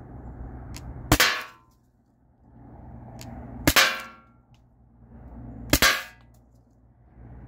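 Three sharp metallic impacts of steel ball bearings fired from a modded T4E HDP50 striking an aluminum panel, each a bright clang with a short ringing tail, spaced a few seconds apart over low background hum.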